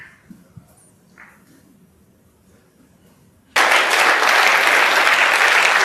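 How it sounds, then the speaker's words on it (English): A snooker crowd at the 2025 Tour Championship quarter-final applauds Mark Selby. After several seconds of near silence with faint small noises, loud, dense clapping breaks out suddenly and keeps going to the end. "The applause is for Mark Selby."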